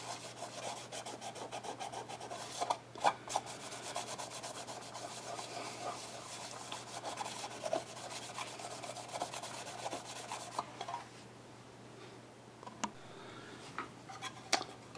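Steady rubbing and scrubbing as a cloth with acetone wipes grime off a grooming can, a soft continuous friction texture with faint clicks, fairly quiet and alone throughout.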